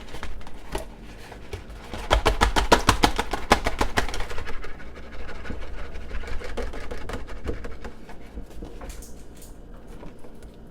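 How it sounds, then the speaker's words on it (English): Loose chopping of a pot of chicken and dumplings: a dense run of rapid knife taps, loudest early on, then slower, softer scattered strikes as the chopping eases off. "Now I just go ahead and loosely chop this up."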